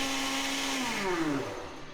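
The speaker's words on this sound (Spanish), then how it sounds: "Ya en la licuadora, a velocidad 3, que quede muy bien molido." A kitchen blender runs at speed 3 grinding salsa for an Aztec poblano casserole, a steady high whirring motor whose pitch slides as the blades work through the mix, loud and close with no talk.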